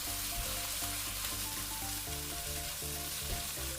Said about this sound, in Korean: 다진 마늘 1큰술과 고춧가루 2큰술을 넣고 중불에서 함께 볶아주세요.